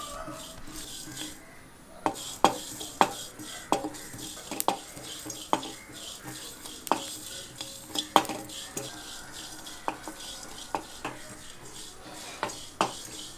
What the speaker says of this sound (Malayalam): ഉലുവയും പെരിഞ്ജീരകവും നന്നായിട്ട് പൊട്ടി വരണം.